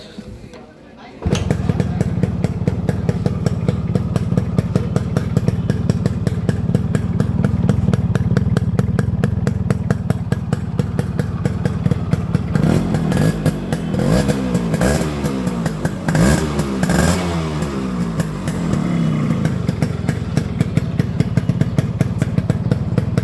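A Yamaha RX100 two-stroke motorcycle with a freshly serviced carburetor starts up after a brief quiet moment, then runs steadily at idle with a smooth, even putter and a few light revs, loud and close for the whole stretch.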